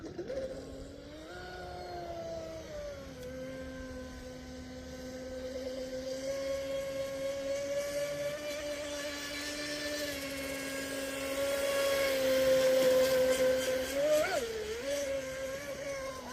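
A Pro Boat Impulse 32 RC speedboat motor whines steadily at low revs, pitch drifting slightly and swelling louder near the end, with no talking.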